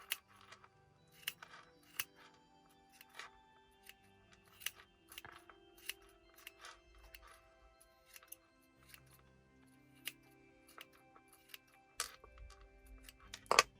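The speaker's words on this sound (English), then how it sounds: "Snip off what I don't need." Scissors trim excess yarn from a fluffy pom-pom being made for loom knitting, giving quiet, close snips that repeat at uneven intervals with a few sharper cuts near the end.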